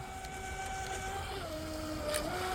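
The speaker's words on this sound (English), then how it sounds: "It sounds like the motor's slowing itself down in a turn, reducing RPM" The brushless motor of a DeeRC 816 RC boat whines steadily, its pitch dropping partway through as it slows in a turn, then climbing again near the end, heard from a short distance with no voices.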